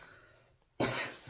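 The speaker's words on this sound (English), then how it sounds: "I start coughing, I'll stop" A single harsh cough bursts out close by after a brief quiet moment, sharp and breathy.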